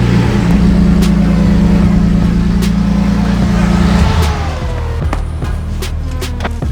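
Drift car engine at a drift battle event, loud and steady under a busy crowd atmosphere, holding a sustained drone before dropping off slightly after four seconds, with scattered sharp noises on top.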